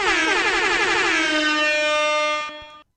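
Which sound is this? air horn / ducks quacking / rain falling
air horn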